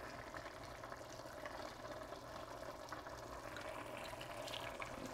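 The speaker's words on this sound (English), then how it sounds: "And you want to leave it, make it simmer down, just like that." Jamaican curry chicken simmers in a pot with a soft, continuous bubbling and hiss, faint and steady throughout, with no voices.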